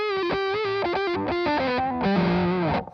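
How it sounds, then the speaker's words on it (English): Electric guitar played through a harsh, nasty distortion pedal set up to act like a fuzz, a steady sustained run of saturated notes and chords with no pauses, cutting off abruptly at the end. "I've got like a really nasty distortion that doubles quite nicely as a fuzz."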